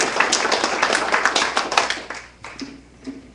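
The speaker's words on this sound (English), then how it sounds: "she should get a big round of applause" A small group claps together, a brisk patter of applause that thins out to a few scattered claps near the end.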